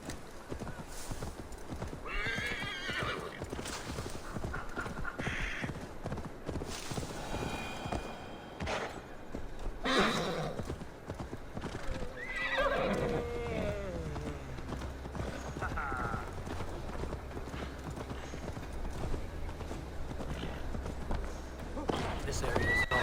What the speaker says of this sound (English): o cavalo não corre, velho